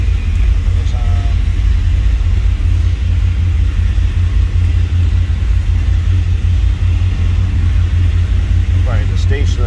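A 1970 Chevrolet Chevelle Malibu engine runs at a steady idle, a deep, loud, close rumble that holds constant throughout.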